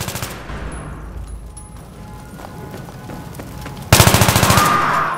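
Machine gun fire in the video game Battlefield 3: after a stretch of low game ambience, a loud rapid-fire burst of closely spaced shots erupts and runs to the end.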